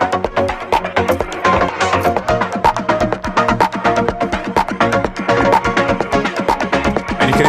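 Full music mix from an Ableton track sent through guitar pedals, with drums automated on and off to form a short fill; steady dense percussion hits and tonal layers run throughout at constant loudness, no talking.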